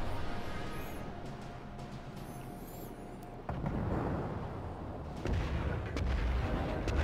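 Deep booming naval gunfire in World of Warships rumbles over a low continuous drone, with heavier blasts landing partway through and again near the end.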